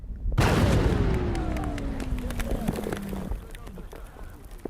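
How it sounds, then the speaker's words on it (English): An anti-tank mine is blown up in a demining operation in the Western Sahara, setting off a single loud, deep blast that rumbles and fades over several seconds, heard from a distance after a countdown. "That explosion was an anti-tank mine being blown up by Minatu's colleagues."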